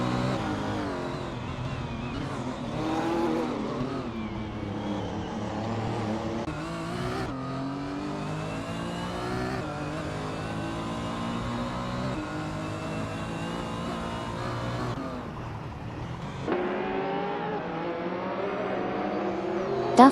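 Ferrari F40 LM race cars from 1989 with turbocharged V8 engines roar in a racing game, a continuous layered engine drone with rising and falling revs and shifting pitch sweeps, loud throughout without a break.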